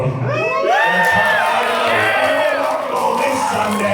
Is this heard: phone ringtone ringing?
no